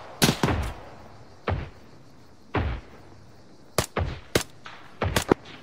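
Gunfire in a video game, a series of sharp, loud shots in uneven bursts: single reports spaced apart, then quicker clusters toward the end.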